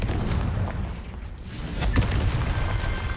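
Confringo blasting spell from a video game, a heavy booming explosion with rumbling low end and a sharp crack near the middle, dense and loud throughout the short burst.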